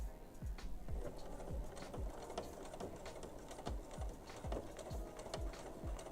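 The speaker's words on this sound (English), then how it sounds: "And sew right down the chalk line." A sewing machine stitches a pants waistband along a chalk line, giving soft, rapid mechanical ticking with a regular thump roughly every half second, quiet and close.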